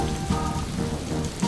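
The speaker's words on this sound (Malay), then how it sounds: "Tapi ia masih hujan." Cartoon rain falls steadily in a dense, even patter on surfaces, a continuous hiss with occasional louder drops, and no voices are heard.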